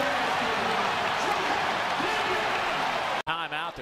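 A basketball arena crowd roars in a steady, loud wash of cheering as the Razorbacks take their first lead against Missouri, ending in a sudden drop before a voice speaks over quieter noise.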